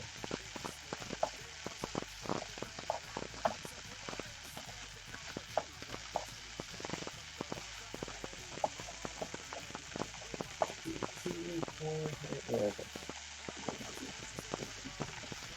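Rice frying in a pan over medium-low heat for Hawaiian-style fried rice, a soft steady sizzle broken by frequent scraping stir strokes, faint throughout, with a brief voice.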